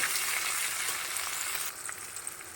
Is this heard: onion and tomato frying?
yes